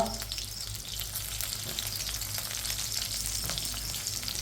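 Onions and chillies fry in a pan with smoked pork in a tribal Assamese recipe, sizzling steadily and close up with crackles throughout.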